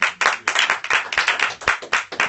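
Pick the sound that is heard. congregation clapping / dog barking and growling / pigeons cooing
congregation clapping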